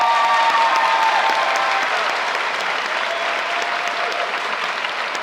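An audience at a school graduation ceremony applauds in a dense, sustained burst of clapping that fades slightly, filling the hall with no speech over it.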